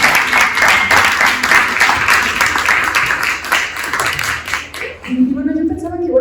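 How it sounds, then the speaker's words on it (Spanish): Loud, close audience applause fills most of the moment before fading out, and a voice starts talking as the clapping dies away. "así que también un aplauso para ella, por favor"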